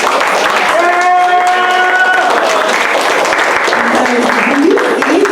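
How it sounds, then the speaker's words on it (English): Audience clapping at a community arts event honoring a performance team, a continuous wash of applause with cheering voices and tonal whoops mixed in throughout. "can we clap it up for the Palenke Arts team?"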